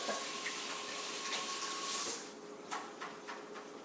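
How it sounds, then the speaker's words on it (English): Water running from a tap into a sink as someone washes their hands, a steady close hiss of flowing water that thins out near the end, with a few faint knocks and no talk. "Better wash my hands."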